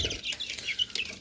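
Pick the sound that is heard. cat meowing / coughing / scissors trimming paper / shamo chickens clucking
shamo chickens clucking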